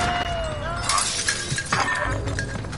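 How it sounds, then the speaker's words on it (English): Glass shatters in the video game Call of Duty Warzone, a bright crashing burst followed by scattered tinkling amid other game sounds. "You gonna break glass."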